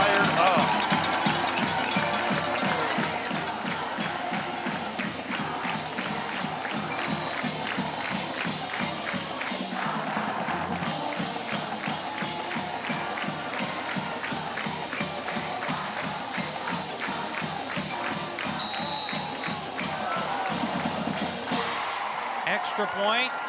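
A high school football crowd roars and cheers in the stands on homecoming night after a touchdown, a sustained dense din under an announcer's voice, with rhythmic chanting or stomping.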